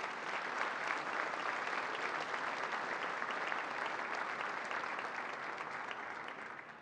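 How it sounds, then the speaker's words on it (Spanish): Audience at a Mexican education awards ceremony breaking into sustained applause, a dense, steady wash of clapping filling the whole stretch and tapering slightly at the end, with no voices over it. "les brindamos un fuerte aplauso"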